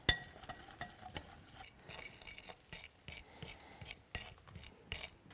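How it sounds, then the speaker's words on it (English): A utensil stirs eggshell chalk paste made with hot water in a mixing bowl, giving repeated close clinks and scrapes in an uneven rhythm with no talking. "You're gonna stir this up until you get a nice paste."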